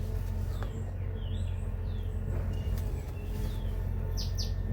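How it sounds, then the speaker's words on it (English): Birds chirp faintly and sporadically over a steady broadband hiss, with a few short, high tweets scattered throughout. "There's birds around."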